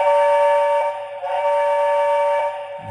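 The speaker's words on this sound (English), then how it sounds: "So right now, here's the whistle." Whistle of a Lionel Hogwarts Express model train set, triggered from a handheld remote: a loud, sustained steady tone that briefly dips and resumes, sounding alone with no talk.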